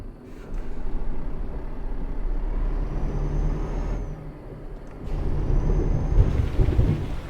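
Steady rain with rolling thunder rumbles in a storm in the truck-driving game Euro Truck Simulator 2, heavy low roar swelling twice and fading with no talk over it.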